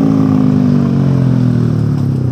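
A Suzuki Sonic 150R motorcycle on its stock exhaust holds a loud, steady, buzzy engine note while riding, heard close with a slight drop in pitch toward the end.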